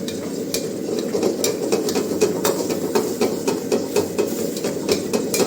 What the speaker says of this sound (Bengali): ভালো করে আমি পাকিয়ে নেব, যাতে আমার ভেজিটেবলস এবং চিকেনগুলো পেকে যায়।